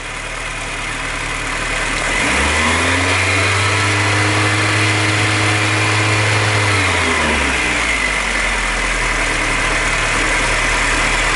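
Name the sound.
VW Golf Mk2 1.8 Pierburg carb engine revving, vacuum pipe off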